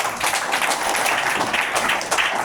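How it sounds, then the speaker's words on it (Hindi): A crowd applauding steadily, a dense wash of hand claps throughout, fairly loud and close. "तालियां बजाइए, मिलेगा।"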